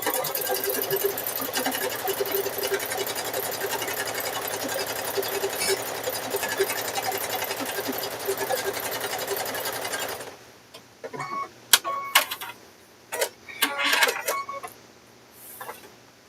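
Sewing machine stitching rope and fabric into bowl corners, a dense steady mechanical whir for about ten seconds, then stopping, followed by scattered clicks, rustles and handling noises at close range.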